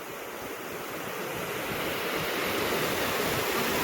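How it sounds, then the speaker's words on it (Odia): Strong water rushing loudly and continuously, a dense roar that swells slightly toward the end, close and unbroken with no voices. "ପାଣି ପ୍ରବଳ ପାଣି।"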